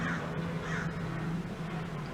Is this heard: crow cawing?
yes